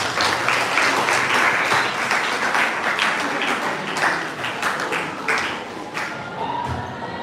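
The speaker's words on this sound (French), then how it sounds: "Est-ce qu'on peut applaudir vous-même?" Students applaud at a high school conference in Libreville, a lively, uneven clapping from a sizable crowd close by, steady throughout with a few sharper individual claps standing out.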